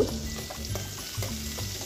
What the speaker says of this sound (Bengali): এবার ওই তেলের মধ্যেই কিছুটা পেঁয়াজ কুচিয়ে দিয়ে দিলাম।